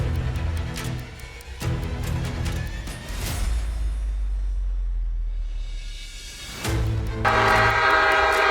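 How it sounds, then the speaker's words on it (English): A CSX train sounds its horn at a railroad crossing in long, loud, sustained blasts, with a gap of rumbling train noise between them and a final blast rising over the clatter. "CSX train hits a car"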